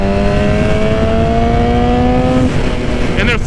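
Suzuki GSX-R 750 motorcycle engine revving, a loud close whine that climbs steadily in pitch and then drops off, with a brief voice near the end.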